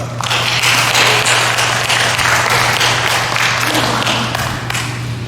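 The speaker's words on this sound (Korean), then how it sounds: "우리 박수로 환영하겠습니다" A church congregation applauds warmly to welcome a pastor, a loud, dense wash of clapping that swells and holds, with a steady low hum underneath.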